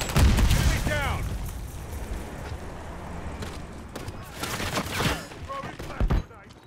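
Gunfire in the Modern Warfare III beta shooter game, sharp bursts and booms scattered across the clip with sweeping in-game effects, while a player talks over it.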